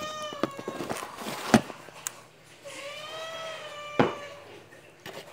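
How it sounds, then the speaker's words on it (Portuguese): A pet cat meows repeatedly in long, pitched calls with short pauses while dry cat food is scooped nearby, with a few sharp clatters of kibble and container; the meows are close and clear, and no one speaks. "Só pegando ração pra minha gata, olha só. Ela querendo."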